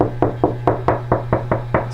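Knuckles knock on a drywall living-room wall to find the 2x4 studs, landing about nine close, evenly spaced raps in a quick steady rhythm with a low hum underneath.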